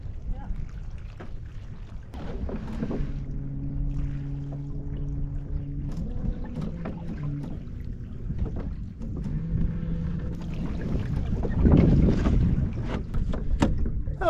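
Steady wind noise rushes over a microphone aboard a sailing wooden boat, with a constant low rumble and water movement throughout and a few low tonal hums rising and falling.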